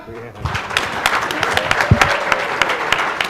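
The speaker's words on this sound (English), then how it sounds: "Can I have your generous applause for our expert witnesses here?" Audience applause at a general election conference panel, a steady wash of many hands clapping that builds quickly and carries on throughout, with some voices mixed in.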